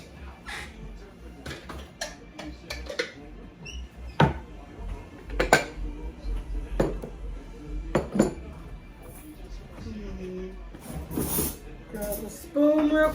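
Bowls and a spoon taken out for serving a dinner of steak, shrimp, mashed potatoes and salad: scattered clinks, knocks and clatter of dishware and cutlery, with cupboard sounds and some talk in between.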